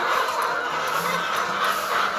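Laying hens on a backyard layer poultry farm, a dense continuous chorus of clucking and chatter from many birds, close and fairly loud with no speech.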